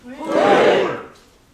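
A Buddhist congregation in a temple hall at a lantern-lighting ceremony for Buddha's Birthday shouts a single chanted word together, loud and close, one sustained swell of many voices that fades out.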